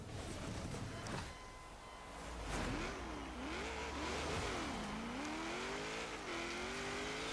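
A 1995 Nissan NISMO GT-R LM race car in Forza Horizon 3 climbs a snowy, icy hill, its engine revving up and down in repeated surges before settling into a steady high drone, played fairly quietly.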